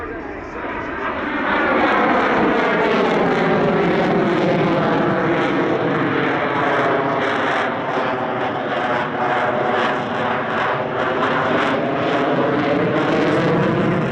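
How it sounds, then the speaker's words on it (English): A Boeing F/A-18 Super Hornet roars loudly through an abrupt vertical pull and push back to level flight at an airshow. The sustained jet noise sweeps in pitch as the fighter passes, and a commentator talks over it throughout. "a very famous Hornet manoeuvre, often known as the hat, an abrupt pull to the vertical, followed by a push back to level flight"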